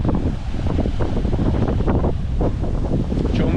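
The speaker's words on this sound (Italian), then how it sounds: "C'è un vento parecchio forte." Strong wind buffets the microphone over rough, stormy sea surf on a coastal path, a loud continuous roar with surging wave crashes throughout and no talking.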